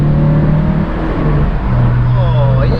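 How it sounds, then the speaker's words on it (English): Mazda MX-5 four-cylinder engine accelerating on track, a loud sustained thrum with steady droning tones that shift pitch as it pulls through the gears. "it's a nice pleasing 4-cylinder thrum that you get from the engine"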